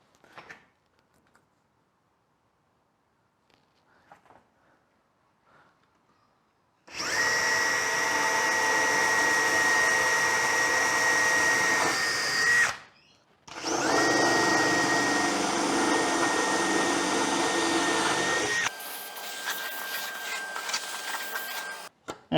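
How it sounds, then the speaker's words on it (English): A drill with a brad point bit bores holes in aluminium for a carbon fibre wing build, running as a loud steady whine in two long bursts separated by a short pause, then a lighter running tone, after a quiet opening. "The brad points don't like cutting the aluminium."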